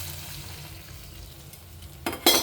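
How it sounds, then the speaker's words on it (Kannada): Water poured into a hot pan for rava upma sets off a loud hissing splash near the end, after a stretch of quiet low kitchen hum. "ನೀರು ಹಾಕ್ತಾಯಿದ್ದೀನಿ."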